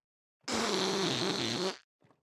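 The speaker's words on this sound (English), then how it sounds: "That was a fake fart, because I couldn't summon up a real one to express my disgust with your acting." A cartoon character makes a fake fart with the voice, a sustained buzzing raspberry lasting over a second, loud and steady, followed by a faint short trailing sound.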